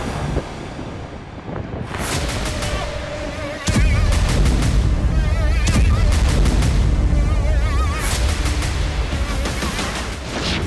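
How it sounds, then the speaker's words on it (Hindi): Bombs strike buildings near the coast in an Israeli air strike, bursts of heavy booms and crackling blasts rolling one after another with wind rumble, loud and sustained over the clip. "जरा इस वीडियो में देखिए कैसे तट के पास मौजूद इमारतों पर बम बरसाए जा रहे हैं।"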